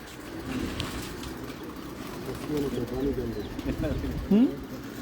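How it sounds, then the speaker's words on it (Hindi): Pigeons in a loft in Fateh Pur coo softly in low, throaty bursts amid steady ambient noise and faint chirps, growing more distinct near the end. "ये है कबूतर बहुत शानदार"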